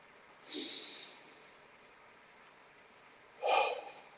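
A person takes slow, deep breaths during a guided meditation, inhaling through the nose and exhaling through the mouth. Two soft, drawn-out breaths stand apart in a quiet room.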